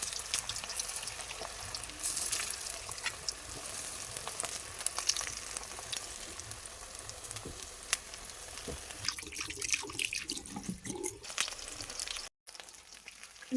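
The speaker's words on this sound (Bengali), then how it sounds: "কড়াইতে সর্ষের তেলটাকে ভালো করে গরম করে আমি আগে একে দিয়ে দেবো।" Frying in hot mustard oil in a wok while cooking a vegetarian taro dish, with a steady close sizzle, scattered sharp crackles and pops, and a brief dropout near the end.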